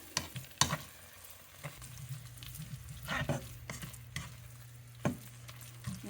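A thick shrimp and crab burger mixture cooks in a pan with a low, steady sizzle and bubbling, broken by several sharp clatters of stirring. No one speaks.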